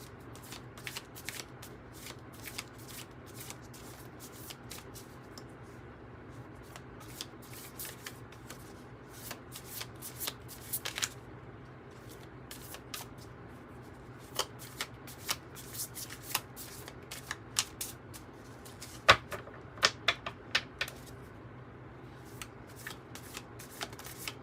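Oracle cards being shuffled for a Cosmos Oracle reading, a steady soft riffling and sliding of cardstock with sharper snaps and taps scattered throughout, close and fairly quiet with no talking.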